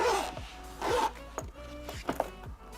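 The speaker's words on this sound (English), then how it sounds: "And then zip it up." A zipper is pulled closed on a headphone case in several quick rasping strokes, each a short sliding zip, close and fairly loud, with faint rustling and clicks between them.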